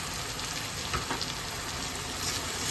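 Spices frying in a pan for chole with salt, turmeric and chilli powder, a steady broadband sizzle held close and even throughout, with a few faint clinks from stirring.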